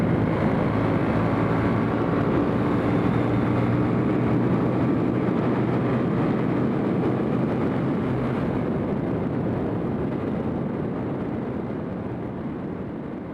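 Motorcycle ridden at speed on a road, with a steady loud roar of engine and wind buffeting that continues throughout and eases slightly toward the end.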